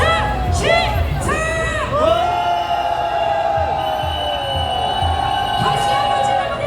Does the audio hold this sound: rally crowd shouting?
yes